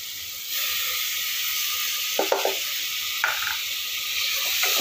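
Ginger garlic paste sizzles as it hits a hot pan of sautéed tomato for pulao. A steady frying hiss starts abruptly and holds, broken by a few brief scraping stirs.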